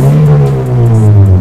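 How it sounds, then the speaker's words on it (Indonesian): A car engine revs up briefly through a dual exhaust, a deep, loud, steady rumble rising slightly in pitch. "kita geber dikit ya"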